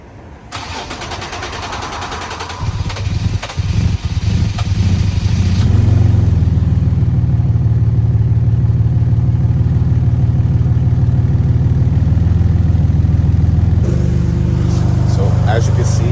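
Infiniti G37x engine cranking, catching and settling into a loud, rough idle with a cracked flex pipe, producing a steady low rumble and exhaust drone heard up close.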